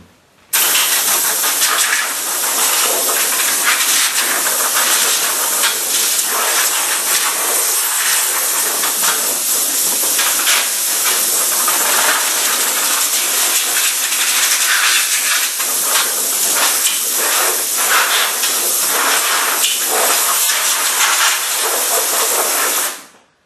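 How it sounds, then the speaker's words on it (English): Compressed air blasting sawdust out of the underside of a Craftsman table saw, a loud, steady, close hiss sustained for over twenty seconds with slight fluctuations as the nozzle moves. "I'm going to blow the sawdust out of the bottom of my saw"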